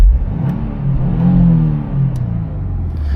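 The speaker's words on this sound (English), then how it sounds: "let's just rev it up here since we're out of the park" A Subaru WRX (VB generation) exhaust revs up and eases back down in a park, giving a loud, deep rumbling swell with no talking over it.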